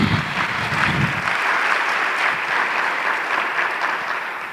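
Steady applause from a church congregation during a Spanish-language sermon, a dense, even clapping from many hands lasting several seconds, with a low murmur briefly underneath at the start.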